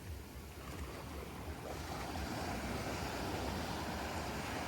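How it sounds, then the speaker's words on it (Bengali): Steady rushing sea surf with waves washing ashore on Mousuni Island beach, a continuous broadband wash with some wind, fairly close and moderately loud, no voices. "এই দেখুন আরেকটা ঢেউ আসছে দেখুন"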